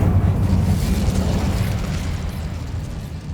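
A fiery Incendio spell from the Hogwarts Legacy video game erupts as a loud, low rumbling burst of flame that rolls on steadily and slowly fades over about three seconds.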